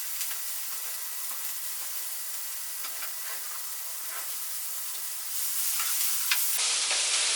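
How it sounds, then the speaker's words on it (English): Vegetables and eggplant sizzle steadily in a hot stir-fry pan, a close, continuous bright hiss that swells louder near the end, with a few faint clicks of turning. "remember you can always make a nice stir fry. So I'm going to throw those in."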